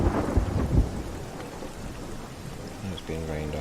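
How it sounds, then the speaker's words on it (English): Rain falls steadily with a deep rumble of thunder in the game Everybody's Gone to the Rapture, a low rolling boom early on fading under continuous rainfall, with a faint voice briefly heard. "It's being rained on."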